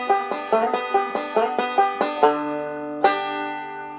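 A banjo picks the opening segment of Cripple Creek, with a steady run of bright plucked notes and pinches, then a final strum that rings out. The playing is close and alone, with no talking.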